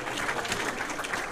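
Brief, lukewarm audience applause after a short story reading at an evening event of a writers' conference, a steady patter of clapping from a modest crowd with no voices.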